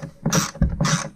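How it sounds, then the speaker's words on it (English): A ratcheting screwdriver clicks in two quick bursts as it turns a screw while fitting a GFCI outlet on a boat, close and sharp with a short pause between. "Switching to this ratcheting screwdriver."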